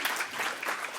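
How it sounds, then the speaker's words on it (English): Audience applause at a cybersecurity conference in Seattle welcomes a speaker to the stage: a steady, moderately quiet wash of many hands clapping that fills the room evenly for about a second, with no voices. "big round of applause as David takes us through fundamentals"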